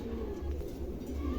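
Pigeons in a loft or market pen coo softly and continuously, a low rumbling murmur of birds close by with no talk over it.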